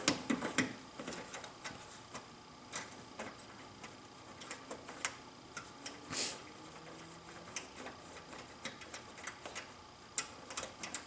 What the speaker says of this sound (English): Remove this top bolt here.